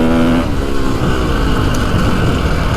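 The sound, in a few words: Ducati 450 Desmo motorcycle engine revving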